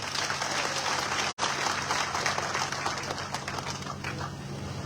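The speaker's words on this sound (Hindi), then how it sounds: "मुझे लगता है जोरदार ताली बजानी चाहिए आपको।" A ceremony audience applauds loudly, a dense continuous wash of clapping that carries on for several seconds with one very brief dropout partway through.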